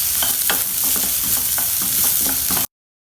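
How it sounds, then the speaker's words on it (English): Dal, curry leaves, green chilli, ginger and chopped onions stir-fried together in a pan, a dense close sizzle broken by rhythmic spatula scrapes and taps, with no voices, ending abruptly. "add in the other items, that is the curry leaves, green chilli, ginger, chopped onions, and stir them together"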